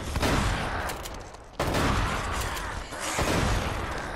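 Intense gunfire in the action game Uncharted: Drake's Fortune, a loud, continuous barrage of overlapping shots with a few sharper cracks punching through over about four seconds.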